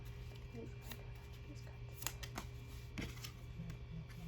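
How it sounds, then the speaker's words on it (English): Oracle cards being shuffled for a tarot-style love reading, light papery riffles and flicks repeating irregularly at a close, quiet level over a steady low hum, with faint speech mixed in. "I'm gonna pull some clarifying oracle cards on this one."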